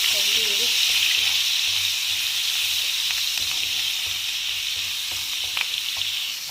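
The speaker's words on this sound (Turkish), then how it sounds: "Evet biberimizi kavurduk." Steady, dense sizzling of chopped peppers frying in butter, close and continuous, with occasional light clicks of stirring.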